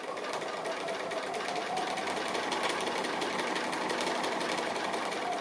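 A sewing machine runs continuously in free-motion stitching of small appliqué pieces in a kitchen setting, a steady close, even mechanical whirr with no pauses throughout.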